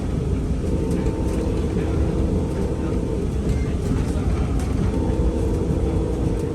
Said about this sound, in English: What passengers won't notice on these new trains is noise, and that's because they're extremely quiet.